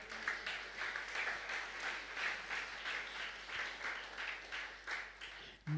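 A church congregation claps together in a steady, rolling round of applause that fills the room at moderate volume and carries on throughout.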